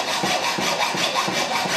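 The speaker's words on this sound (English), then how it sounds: "This is TD taking down 27 inches of our frame with a hacksaw." Hacksaw cutting through an aluminum boat top frame, steady back-and-forth rasping strokes in an even rhythm, loud and close.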